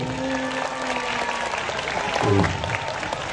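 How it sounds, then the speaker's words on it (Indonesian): Schoolchildren at a fire-safety general lecture in an elementary school clap together, a dense patter of applause with a tonal hum and a short low burst near the end. "Tepuk tangan dong."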